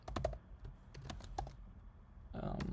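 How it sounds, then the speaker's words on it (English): Someone types on a computer keyboard in quick, irregular bursts of close clicking keystrokes, with a short pause before a denser flurry at the end. "I'm a very slow typer, in case you guys haven't noticed yet."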